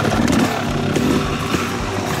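Beta RR250 2020 enduro motorcycle engine revving hard during an accelerator turn on a practice course, a loud, close, continuous snarl with surging throttle.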